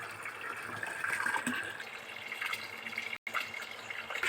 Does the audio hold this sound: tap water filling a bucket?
yes